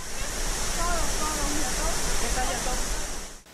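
The Cascadas del Diablo waterfall in Santo Domingo de los Tsáchilas province roars steadily, a dense continuous rush of falling water heard up close with no pauses.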